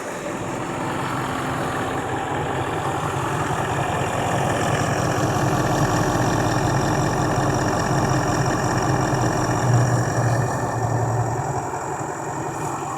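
Range Rover L405 with the 4.4 SDV8 diesel idling steadily just after a fuel filter change, a continuous low rumble close by with no talk over it.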